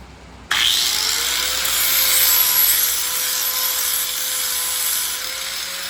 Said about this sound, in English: I finished up grinding this over here